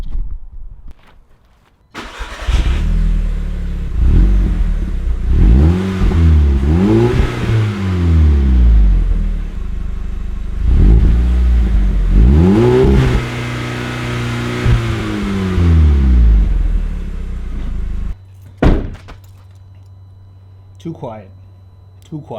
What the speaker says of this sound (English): grab some stock revs as well as some stock launch control just to see how the car sounds before we put the downpipe in it